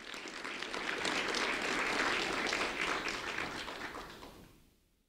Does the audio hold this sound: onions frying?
no